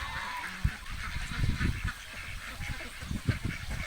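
Muscovy ducks kept on a farm give low hoarse honks and calls over steady outdoor background noise, several close calls scattered through.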